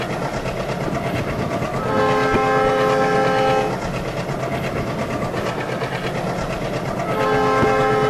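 A long passenger train driven in a Bangladesh train simulator game rumbles steadily on the rails with rhythmic clatter, while its loud horn blasts twice in long sustained tones, without any speech.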